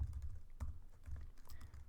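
Quiet keystrokes on a computer keyboard during Python coding come in an uneven, steady patter of soft clicks and taps that sound close but faint. No one talks.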